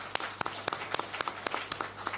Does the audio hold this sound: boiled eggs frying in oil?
no